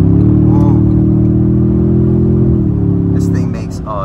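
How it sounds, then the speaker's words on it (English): A 2024 Toyota Tundra TRD-Pro with sport exhaust pulling at half throttle, giving a deep, steady droning engine tone that holds then eases, loud and close, with someone talking over it. "with this sport exhaust system, you do hear it, but I wouldn't really call it drone"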